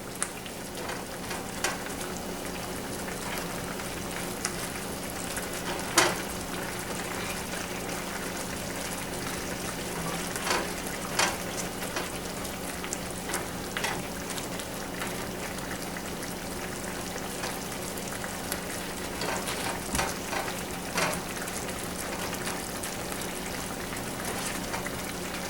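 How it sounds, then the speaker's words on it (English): Smothered pork chops simmer in thickening gravy in a pan, giving a steady, soft sizzle and bubbling throughout with occasional louder pops and stirring clicks, no voices. "We're going to cook this and let the gravy thicken up a little bit."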